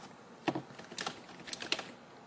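Keystrokes on a computer keyboard as a file name is typed on a PC, a few quick clusters of clicky taps spread over two seconds, close and fairly quiet with no talking.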